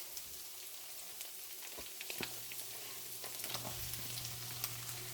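Beyond Beef plant-based meat sizzling in butter in a pan: a quiet, steady crackle with scattered pops and spits, plus a low hum from the stove area, without speech.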